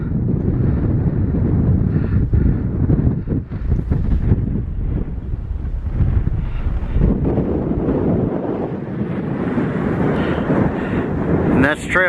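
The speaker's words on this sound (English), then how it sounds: "the wind's howling up here" Wind howls on top of Buzzard Rock on the Appalachian Trail, buffeting the microphone with a loud, continuous rumble while a hiker talks over it.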